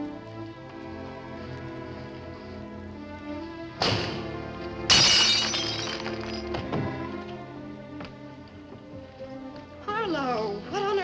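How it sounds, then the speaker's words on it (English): Window glass pane shattering at night in a 1955 film scene, a sharp crack followed by a louder crash and tinkling debris over background music. "if you shatter a pane of glass in the dead of night, it makes a noise"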